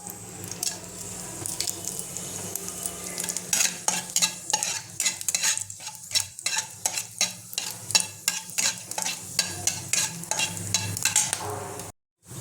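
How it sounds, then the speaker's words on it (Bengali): Whole spices hit hot oil as the tempering for Bengali-style masala rice, a steady crackling sizzle with repeated sharp pops and stirring scrapes, loud and close, cutting off abruptly near the end. "এবার আমি দিয়ে দেবো ফোড়নটা।"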